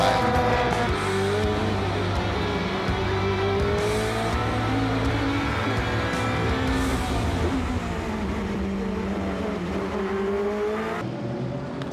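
Super GT race cars braking hard and overtaking at Fuji, a continuous loud engine roar with shifting pitch as cars downshift and accelerate, layered over one another for the full stretch before cutting off near the end.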